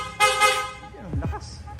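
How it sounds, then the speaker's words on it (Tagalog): A loud aftermarket horn fitted to a Yamaha Sniper 155 motorcycle gives two short, close honks, with people talking around it and a falling tone in between. "pa-activate naman ang loud horn"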